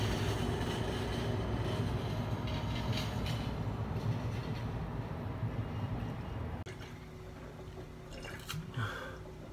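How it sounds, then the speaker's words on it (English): A train rumbles past at a distance, a steady broad roar that softens partway through, with faint rattling and no voices. "There's a train going by."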